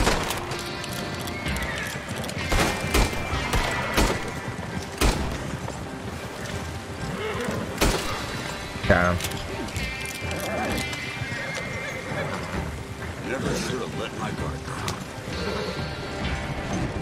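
A horse in Red Dead Redemption 2 whinnies and neighs while hooves clip-clop nearby, with scattered thuds and bleats mixed into a busy game soundscape.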